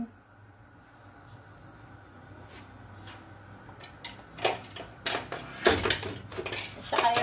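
A cooking pot of vegetables with string beans in coconut milk being covered, a quiet stretch followed by a burst of loud metallic clanks and rattles as the lid is fitted on.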